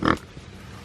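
A pig in the woods gives a single short, loud grunt close by, followed by near quiet.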